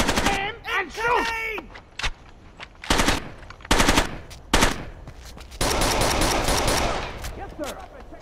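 Bursts of automatic rifle fire and single shots in the video game Rainbow Six Vegas 2, sharp and loud, with a long sustained volley near the end, mixed with brief in-game voices and effects.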